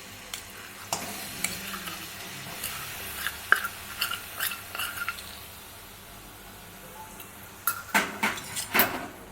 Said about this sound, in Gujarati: તો ગોળને આપણે આ રીતના હલાવતા જ રહેવાનું।